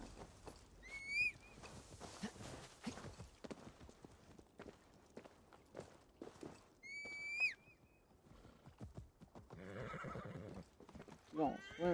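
Horse in the Assassin's Creed Valhalla video game whinnying twice with shrill neighs, hooves clip-clopping in between, alongside a player speaking quietly.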